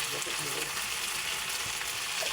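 Pork and tofu sisig frying in a hot pan: a steady, bright, hissing sizzle that stays loud and even throughout, close by, with faint stirring scrapes and no talking.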